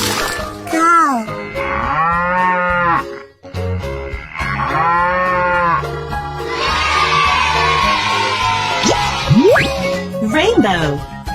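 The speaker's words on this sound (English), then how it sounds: "Cow." Cartoon cow in a children's animated train show giving two long, loud moos, followed by a crowd of children cheering and springy boing effects over music.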